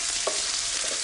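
Onions hit a hot pan and sizzle in a loud, steady hiss, with a brief soft knock near the start, close up and without any talk.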